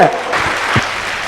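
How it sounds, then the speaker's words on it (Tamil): Applause bursts from the audience of a Tamil talk-show debate in Tiruppur, a brief, steady wash of clapping at moderate loudness with voices mixed in. "உங்களுடைய பாராட்டுதலை இந்த பலத்த கைத்தட்டலோடு நீங்க சொல்வதை போல"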